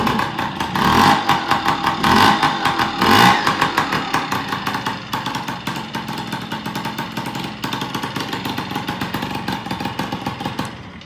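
A 2021 Yamaha PW50 dirt bike's small engine runs steadily close by after a kickstart, a buzzy, continuous idle with slight pulsing for the whole stretch, no talk over it.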